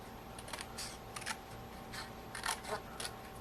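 Scissors snip through craft cardstock in a quiet room, a series of short, faint crisp cuts spaced irregularly over a low steady background hiss.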